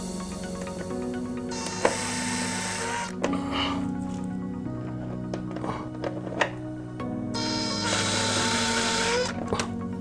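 A power drill driving a 5/16 socket on a Generac 4000XL generator whirs in several bursts of varying speed, stopping and starting with clicks and clatter between runs, close up.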